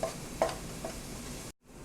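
Masala roasting in oil for curry pakora gives a low, steady sizzle with a couple of soft stirring scrapes, then cuts out briefly near the end.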